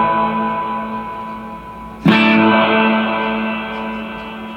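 A sustained guitar chord rings out, then a fresh strum at the midpoint blooms into a smooth, dense reverb tail that slowly fades.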